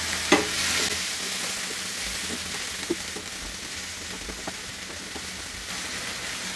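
Chopped tomato softening in a hot frying pan, a continuous sizzle with occasional spatula taps and scrapes, moderately close and alone.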